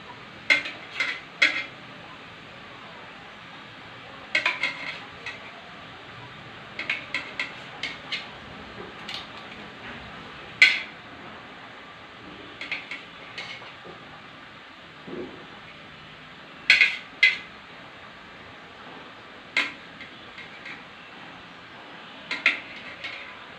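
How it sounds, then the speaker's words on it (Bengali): Repeated sharp clinks of a metal knife against a plate or bowl as boiled eggs are sliced for egg chops, in irregular bursts over a quiet kitchen background. "এখন আমি ডিমটা কেটে নিব"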